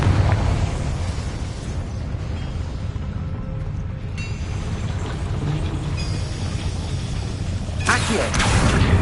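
A Confringo fire spell exploding in the video game Hogwarts Legacy: a rumbling blast with crackling bursts over steady game ambience, including a sharper burst near the end.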